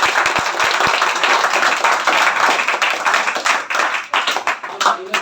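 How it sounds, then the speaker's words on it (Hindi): Audience applause at a student interaction session, a dense steady wash of clapping hands lasting the whole stretch, loud and close, with a few sharp claps standing out at the start. "जोरदार तालियां"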